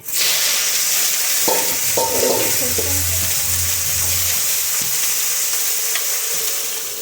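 Onions hit hot oil with cardamom, cloves and cinnamon in a wok, a loud dense sizzle with stirring scrapes throughout, a low hum in the middle and no speech.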